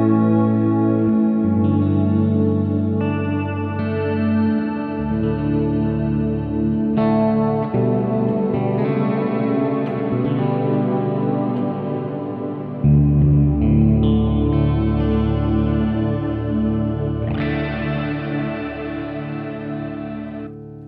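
An electric guitar played through a BOSS RV-6 reverb pedal set to an ambient mode rings out in sustained, layered chords with long, lush washy tails blending between changes, loud and alone with no talk.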